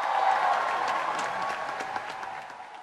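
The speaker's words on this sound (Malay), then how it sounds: "sekali lagi suara dan sorakan semangat daripada para mahasiswa dan mahasiswa" University students applauding and cheering at a prime minister's speech, sustained crowd clapping that fills the space and slowly fades toward the end.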